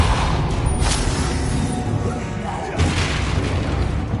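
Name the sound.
Convulso spell blast in the Hogwarts Legacy video game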